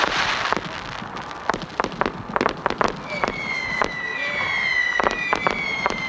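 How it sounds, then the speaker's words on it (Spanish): Fireworks at the floodlight inauguration of the Rafael Mendoza Castellón stadium: a rapid series of sharp bangs and crackles, then rising whistling tones over repeated pops, loud and close throughout. "con estos fuegos artificiales en esta noche"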